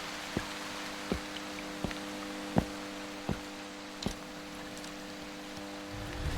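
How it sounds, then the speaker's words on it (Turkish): Rain falls outside in the Turkish horror game The Gassal, a steady soft wash with scattered sharper drips landing about once a second over a low, constant hum, fairly quiet and even. "Yağmur yağıyor dışarısı çamur."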